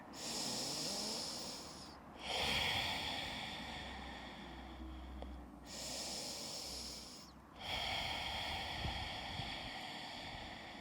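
Slow, deep breaths during a yoga forward fold, three long audible inhale-exhale cycles with clear pauses between, close and quiet with no talking.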